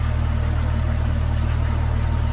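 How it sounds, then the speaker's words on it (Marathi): A tractor engine drives a flour mill through its PTO shaft in Melghat, making a loud, steady mechanical drone with a constant low hum and an unchanging rhythmic throb, running alone without speech. "ट्रॅक्टरवर चक्की चालू आहे"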